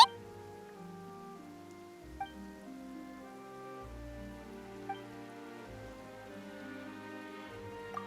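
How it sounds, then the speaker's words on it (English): Soft, steady rain patters throughout, low in level, with a gentle musical backdrop and a few faint drips standing out. "Why is it raining?"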